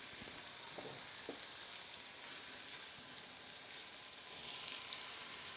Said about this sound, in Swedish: Och så steka Wallenbergen på svag värme